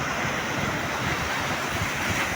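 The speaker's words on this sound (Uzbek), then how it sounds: "bunaqa suv to'lqinlanadi, dahshat ovozi juda qo'rqinchli" Sea waves surging at Albena beach on Bulgaria's Black Sea coast, a steady loud roar of surf with wind buffeting the microphone throughout, no voices.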